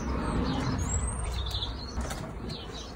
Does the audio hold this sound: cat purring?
no